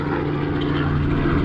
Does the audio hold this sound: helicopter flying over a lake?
yes